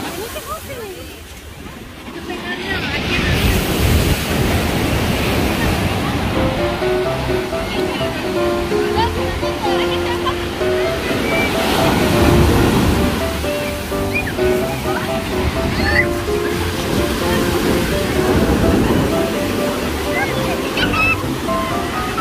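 Rough sea surf breaks on a shore in a continuous loud roar of crashing, rushing water that swells and recedes, filling the whole stretch.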